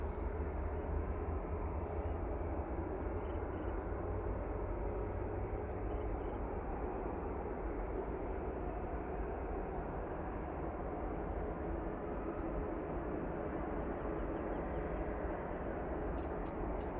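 A TUI Boeing Dreamliner takes off at Manchester Airport, its engines a constant deep, heavy roar that holds steady and fills the whole stretch without any voices.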